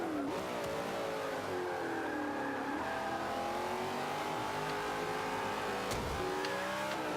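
A 2015 Mustang GT racing in Forza 5 with an upgraded engine, heard from close by as it revs hard through rising and falling gears, a steady loud engine note with quick shifts and a brief rev dip near the end.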